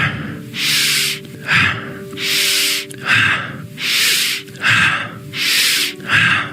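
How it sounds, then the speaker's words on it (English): Rapid, forceful breathing demonstrated through the nose, a steady alternating pattern of about eight loud, close, airy breaths, longer inhales trading with shorter exhales, with no talking. "I am inhaling through the nose."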